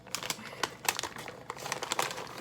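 A plastic bag crinkles and rustles as it is cut and pulled open, a steady run of close, crisp crackles with no one talking.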